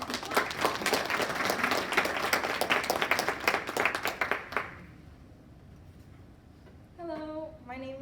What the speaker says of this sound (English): So please, round of applause for Bravo, the Bremen people.